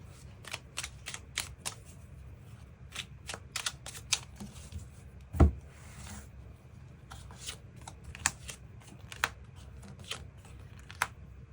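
Tarot cards being shuffled and drawn, a run of crisp riffling flicks and snaps at steady intervals with a louder slap near the middle, heard up close with no talk.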